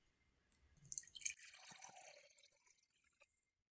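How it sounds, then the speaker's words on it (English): Water poured from a container into a drinking cup, a short splashing pour that swells, then trickles down to a few faint drips, close by and alone. "Let's see if I can pour this in."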